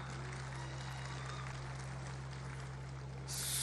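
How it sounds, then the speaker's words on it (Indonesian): Applause from a crowd at a Golkar party anniversary event in Indonesia, a steady broad wash of clapping that swells louder near the end. "Terima kasih. Tepuk tangan."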